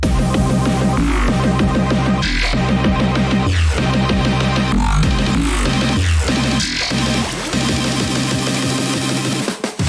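Second build of a dubstep/glitch hop track: dense electronic music with a steady pulsing bass, layered synths and repeated rhythmic drops, loud and continuous with no voices, ending in a sharp high sweep.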